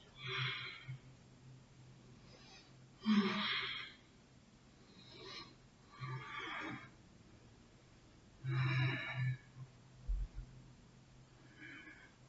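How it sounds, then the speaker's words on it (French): Slow yoga breathing: several long, airy inhales and exhales close to the microphone, separated by quiet pauses, with faint background hum. "Inspire. Et expire."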